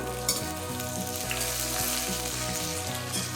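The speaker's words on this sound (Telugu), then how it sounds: "చూడండి ఆనియన్స్ అన్నీ బాగా వేగిపోయాయి" Onions frying in oil with dried red chillies and curry leaves, a dense continuous sizzle close up, with a steady low hum from a nearby appliance underneath.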